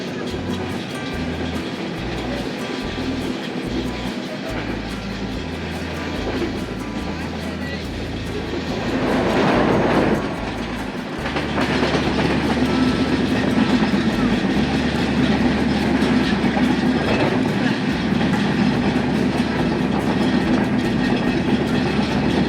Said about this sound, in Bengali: ট্রেনটি প্রায় আশি স্পিড প্লাসের উপরে কিন্তু এই সেকশনটি পার হতে হতে যাচ্ছে